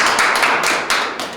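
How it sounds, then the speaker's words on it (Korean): A small studio audience claps briefly at an art award talk show, a few quick bursts of hand claps close by, no speech. "박수 한번 다시 한번"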